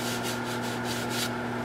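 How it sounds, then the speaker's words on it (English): Continuous abrasive rubbing of sandpaper against a spalted alder wood bowl, close and fairly loud, with rhythmic surges as the paper sweeps back and forth. "So, I'll be sanding."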